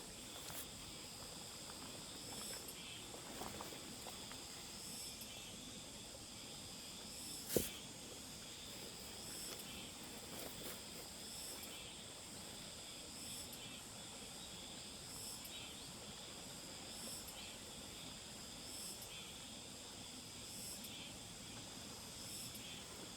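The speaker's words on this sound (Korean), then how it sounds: "앞산, 뒷산 할 것 없이 계속 매미 소리가 들립니다" Steady high-pitched cicada buzzing from the surrounding hills fills the background without pause, a dense continuous drone with one brief sharp knock partway through.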